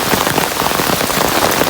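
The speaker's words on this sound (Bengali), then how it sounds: "দুই দিন টানা বৃষ্টি এরকম" Heavy rain pours down steadily during a flood beside the Gomti River in Cumilla, a loud, dense, even hiss of drops striking water and surfaces close by.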